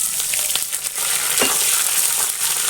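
Curry leaves hit hot oil over fried onions and crackle in a steady, bright sizzle, with scattered pops and stirring scrapes running throughout and no voice present.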